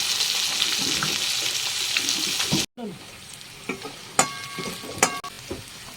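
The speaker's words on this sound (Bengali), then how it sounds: "পেঁয়াজগুলো মোটামুটি ভাজা হয়ে গেছে" Onions sizzle loudly in a hot pan with a steady crackling hiss, which cuts off abruptly and gives way to quieter stirring and clinking.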